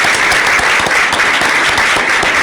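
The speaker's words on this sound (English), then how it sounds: "we're going to give you a round of applause" A council meeting audience gives a round of applause, a loud, dense and steady burst of clapping filling the whole moment without a break.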